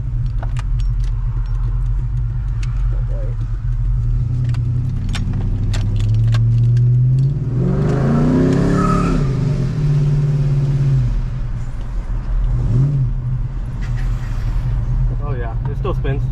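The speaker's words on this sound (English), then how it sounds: "we're gonna drive it around the block a little bit just to feel it again" An old truck with very stale fuel drives around the block, its engine a steady close low rumble that swells as it accelerates midway, with some jingling in the cab and someone talking now and then.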